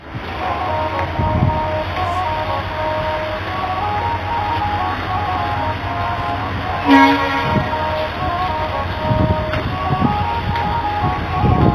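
Steady rumble of the Mumbai–Howrah Gitanjali Express heard from inside a 2nd AC coach, a continuous close drone with a brief louder clank partway through and no talking.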